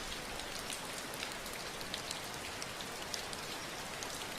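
Steady rain falls with a dense, even patter of drops, soft and continuous throughout with no other sounds.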